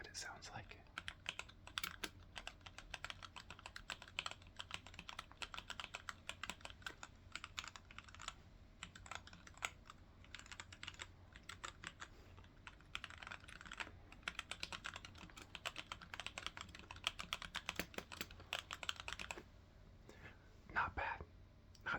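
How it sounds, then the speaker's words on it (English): An old, solid computer keyboard, modified to run quieter, is typed on steadily for a long stretch, giving dense rapid clacks close to the mic with brief pauses; a soft whispering voice sits beneath the keys. "It's an old keyboard, so don't expect much."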